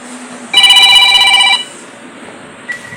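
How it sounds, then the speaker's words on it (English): A phone rings loudly and close by in a single electronic ringtone burst lasting about a second, then cuts off into a quiet room. "my phone is ringing."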